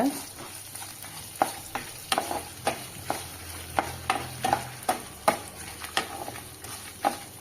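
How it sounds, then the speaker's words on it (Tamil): A lump of asafoetida fries in oil for a curry leaf thuvaiyal, giving a soft continuous sizzle broken by repeated sharp taps and scrapes of a spoon stirring in the pan. "பெருங்காயக்கட்டி எடுத்து வச்சுருக்கேங்க அது எண்ணெயிலே போட்டு நல்லா வறுத்துக்கோங்க"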